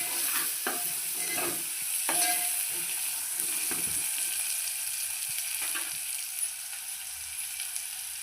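Coriander, curry leaves and mint frying in oil with ginger-garlic paste and stirred in a pan: a steady sizzle with scattered spoon scrapes and clinks, no voices.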